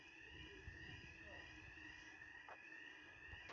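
A building alarm sounds steadily from a distance, a faint continuous high electronic tone with a low rumbling background and a couple of brief bright knocks, heard under quiet ambient noise.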